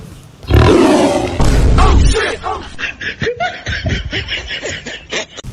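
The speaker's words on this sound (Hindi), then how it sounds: "कभी शेर का आवाज आ रहा है" A loud, deep lion roar, followed by rapid snickering laughter-like bursts, close and harsh.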